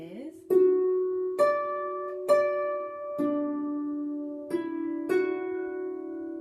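A harp plays a phrase of the tune Bonny at Morn: six or so clear plucked notes, each ringing and fading, spaced at an even, unhurried pace with no voice.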